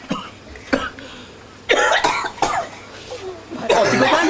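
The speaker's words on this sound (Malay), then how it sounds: "Oh, tiga kali dia batuk ni." A person coughs repeatedly in rough, close bursts, with several hacking coughs spread across a few seconds and growing louder toward the end.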